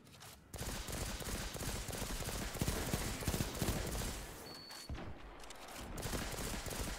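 Sustained barrage of rapid gunfire from a trials fight in a video game, a dense, loud burst of shots running nearly the full length with little pause.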